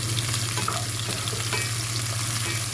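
Lentils fry and sizzle in hot oil in a pan, a steady close crackle with occasional stirring clicks, before moringa leaves are added.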